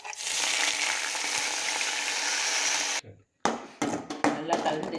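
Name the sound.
curry leaves sizzling in hot oil for kaara chutney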